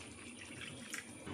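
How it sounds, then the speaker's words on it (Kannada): A glass of water poured into a pot of chicken curry on the stove, a brief faint splash and trickle with no talk. "ಈಗ ಚಿಕನ್ ಬೇಯಲಿಕ್ಕೆ 1 ಗ್ಲಾಸ್ ಆಗುವಷ್ಟು ನೀರು ಹಾಕ್ಕೊಳ್ತೀನಿ."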